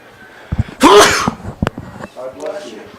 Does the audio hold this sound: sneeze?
yes